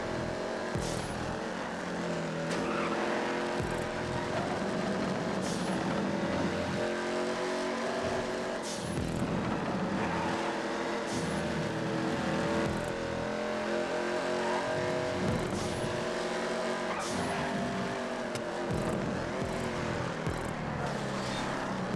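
Cars racing around the docks in GTA 5, engines roaring and revving continuously as several vehicles rise and fall in pitch, with gear changes and occasional tire squeal, loud and close with no talk.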